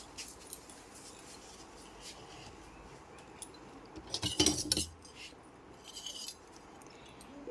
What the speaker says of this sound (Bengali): এখন আমি কড়াইটা একটু নামিয়ে নিই।